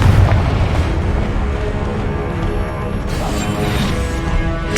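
A Confringo blasting spell explodes in Hogwarts Legacy as a loud, heavy boom opening into a sustained rumbling roar of debris and combat noise, dense and close throughout.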